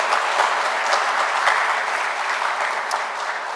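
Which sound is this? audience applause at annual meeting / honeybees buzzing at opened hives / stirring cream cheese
audience applause at annual meeting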